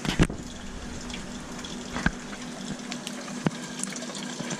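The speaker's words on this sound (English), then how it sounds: "here is the water being added to this sump" Water flows into an aquarium sump serving two tanks, a continuous gushing fill with a steady low hum and a few sharp clanks or splashes standing out, no speech.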